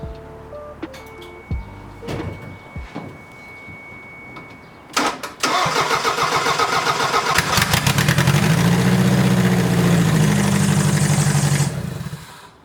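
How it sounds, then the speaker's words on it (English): A 1991 Toyota MR2 with a 5S-FE engine and new injectors cranks with a starter whine, then fires and runs loud and steady at close range for several seconds before cutting off. "see if this thing will actually fire up on its brand new injector"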